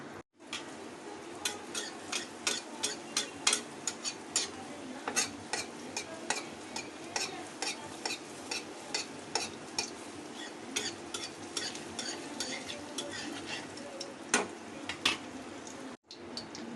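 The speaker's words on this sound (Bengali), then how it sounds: "এইভাবে উল্টে পাল্টে আমি ভাজাটা করব।" Malpua batter sizzling in hot oil while being turned, with a soft continuous fry hiss punctuated by frequent light clinks and scrapes of a spatula against the pan.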